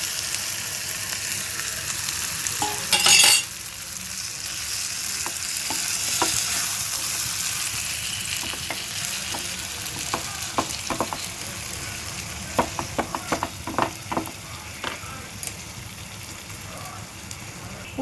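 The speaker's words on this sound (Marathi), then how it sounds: "हांव बीफ घालता फोण्णां" Beef sizzling in a pan of Goan tempering for xacuti, a steady broadband frying hiss with scattered scraping clicks of stirring, one louder burst early and more frequent spoon knocks toward the end, no talk.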